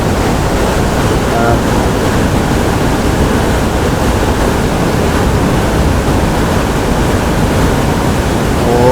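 Water churns in a whirlpool below Pasak Chonlasit Dam with all gates open, a loud, unbroken roar of rushing water that holds steady throughout.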